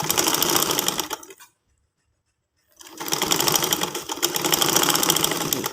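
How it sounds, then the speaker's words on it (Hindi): Sewing machine stitching a trouser seam with a triangle design, a loud steady whirring run that stops for about a second, then starts again and keeps going, with no talking. "अब इसी तरह हमने ऊपर तक इसकी सिलाई लगा लेनी है।"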